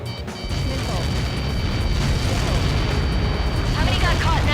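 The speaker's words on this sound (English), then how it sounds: "How many got caught in that explosion?" A missile impact explosion in Ace Combat 7 becomes a dense, roaring rumble that holds loud and sustained for several seconds, with jet noise and radio chatter layered over it.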